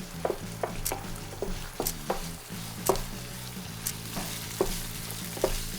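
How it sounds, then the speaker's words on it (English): Mince in sauce simmers and reduces in a pan for an Okinawa taco rice bowl, with a steady low bubbling sizzle broken by regular spoon taps and stirring clicks, close and moderately quiet, no voices. "Now cook until the sauce is reduced."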